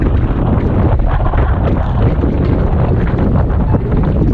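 Strong wind buffets the microphone during a women's coxed four rowing race on open water, a loud, continuous low roar with no talk.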